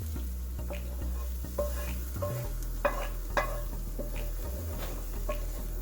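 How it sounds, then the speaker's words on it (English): Onions stirred into a pot of cooking lentils and noodles, giving soft scraping and clinking stir sounds over a steady low background hum, with a few sharper utensil knocks. "We are now going to put the onions inside the lentils and noodles."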